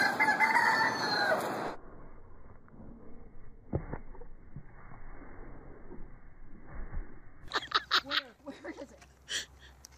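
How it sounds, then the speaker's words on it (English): A rooster crows loudly and up close at a KFC during the opening couple of seconds, then the sound drops to quieter background noise with a few sharp knocks and bird-like chirps near the end. "there's a rooster there at KFC."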